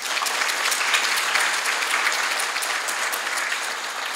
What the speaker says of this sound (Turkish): Ben onlar adına sizlerden bir alkış rica